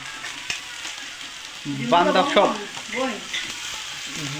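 Capsicum stir-frying in a pan with onion and carrot, a continuous close sizzle and hiss with occasional stirring scrapes, as a voice speaks a few words over the cooking.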